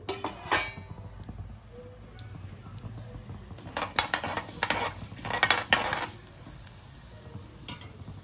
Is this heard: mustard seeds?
yes